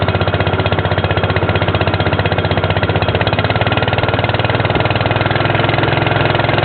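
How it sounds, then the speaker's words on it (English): A four-stroke outboard boat motor runs steadily on a lake, a loud, even mechanical drone with a fast regular pulse holding throughout, close and uninterrupted, with no voices over it. "Boy, that's a nice running motor."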